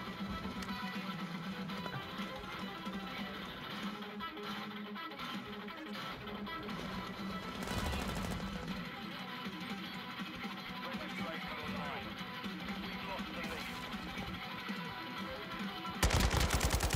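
An AK rifle fires in Call of Duty: Modern Warfare II, with rapid bursts of in-game gunfire running throughout beneath a player talking, plus a louder burst near the end.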